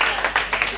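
Brief burst of audience applause for contest candidates at a World Book Day award show, close steady clapping.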